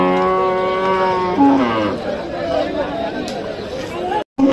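Cattle at a crowded cattle market, one loud drawn-out moo close by, then crowd chatter and hubbub carry on around the animals.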